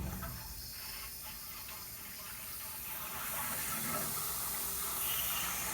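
Water rushing into a replacement water heater in an old house while air escapes through an open hot faucet, a steady broadband hiss that grows slightly louder toward the end, with no talk.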